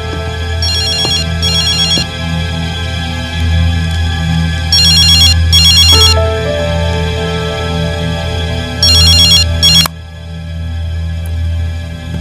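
A telephone rings repeatedly in short electronic bursts over a low, sustained musical score, several clear ring pairs sounding loud and close before cutting off.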